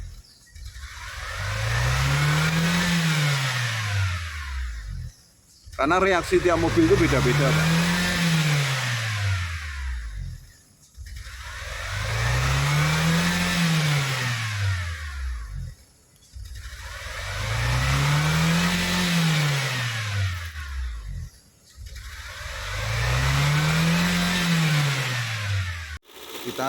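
A car engine, a Wuling Almaz fitted with a Blackcore Ultimate device, revs up and falls back five times in a regular cycle, each rise carrying a whistling note from the exhaust. A voice speaks briefly near the second rev.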